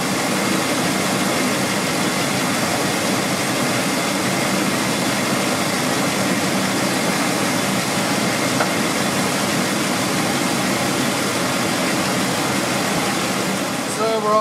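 A 1998 Chevy Cheyenne C1500 pickup engine idling after an intake manifold gasket replacement, a steady, loud, unchanging hum and whir held close throughout.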